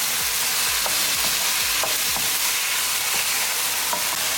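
Bitter melon and potatoes stirred into translucent onions in a frying pan, a continuous loud close sizzle with repeated scraping strokes of the spoon, no voice.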